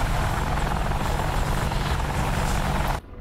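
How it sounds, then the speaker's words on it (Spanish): An Apache attack helicopter roars loudly and steadily with a dense rotor and engine wash, then cuts off abruptly near the end. "Es básicamente este helicóptero."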